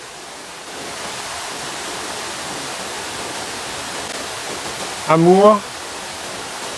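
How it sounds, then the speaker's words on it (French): A forest waterfall pours in a steady, even rush of water that fills the whole scene, with a single brief spoken word near the end. "il y a quand même une belle cascade"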